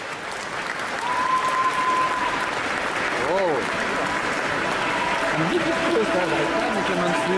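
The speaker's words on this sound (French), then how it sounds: "Un tonnerre d'applaudissements et des encouragements bien forts pour Did, s'il vous plaît." Audience at an indoor cosplay parade applauding steadily with scattered cheers, a continuous wash of clapping through the whole stretch while a voice and whoops rise intermittently above it.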